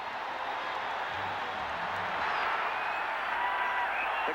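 A packed Fenway Park crowd roars for the Red Sox, a dense, steady wall of cheering and clapping that holds near and loud throughout.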